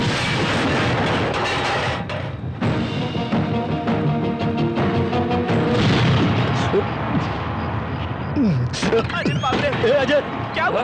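In a movie scene, a bomb blast at a police station booms through a dense, chaotic mix of rumbling explosions and crackling bursts, with dramatic music and shouting voices layered over the noise.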